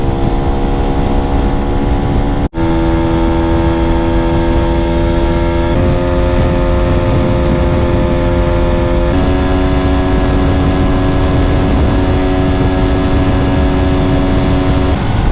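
SWM Hoku 125 motorcycle accelerating hard on a highway, a loud close engine whine climbing in pitch through several gear shifts with brief breaks between, steady wind rush underneath and no talk.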